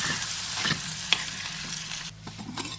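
Green gram is stirred into a simmering homestyle spinach curry in a pan, giving soft, close scraping and sloshing over a low sizzle, with no talking.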